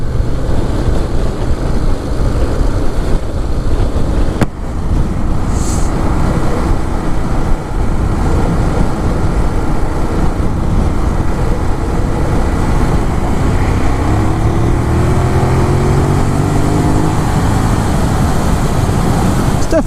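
A 2018 Ducati Monster 821 ridden along English country roads, a steady loud engine drone blended with heavy wind buffeting, continuous and close with little change over the ride.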